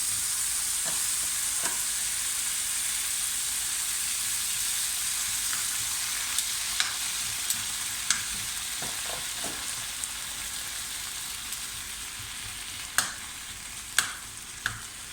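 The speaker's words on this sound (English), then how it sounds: "we're just going to fry off some kimchi" Kimchi frying in a hot oiled pan, a steady bright sizzle throughout with occasional clicks and taps from stirring and turning, no voices.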